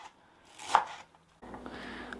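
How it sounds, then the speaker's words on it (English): A knife chops fresh dill on a cutting board in a home kitchen, giving a couple of soft, close taps and one sharper cut amid quiet room sound. "now that I finished chopping the dill"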